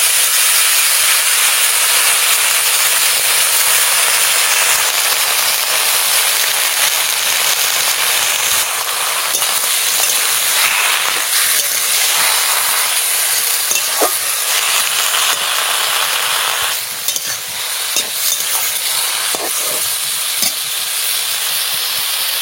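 Spinach leaves sizzle and hiss steadily in hot oil in a home kitchen pan, a dense continuous frying crackle with occasional sharper pops, with no talking.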